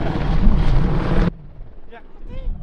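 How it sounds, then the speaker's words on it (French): A helicopter roars loud and close overhead in the Hautes-Alpes mountains, a broad rumbling wash that cuts off abruptly, leaving quiet background with faint chirps and brief voices. "Il y a un hélicoptère qui tourne depuis une dizaine de minutes là"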